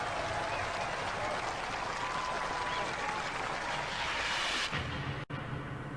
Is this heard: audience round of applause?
yes